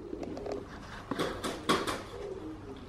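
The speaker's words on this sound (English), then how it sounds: "these birds are fucking loud" Pigeons or doves calling outdoors near a car being spray-painted with cans, a few soft coos and chirps repeating close by at moderate loudness, with no talk.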